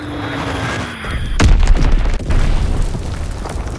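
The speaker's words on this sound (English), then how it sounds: "Dropping Azon bomb." A heavy Azon bomb drops and detonates in Call of Duty WWII, a sudden loud boom followed by a long rumbling roar and scattered crackle that persists to the end.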